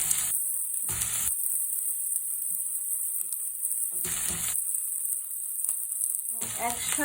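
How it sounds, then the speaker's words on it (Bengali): Ginger garlic paste tipped into vegetables frying in hot oil tempered with panch phoron, giving a steady close sizzle that swells in a few louder bursts, with light stirring throughout. "এবং একটু আদা রসুন বাটাটা দিয়ে দিচ্ছি।"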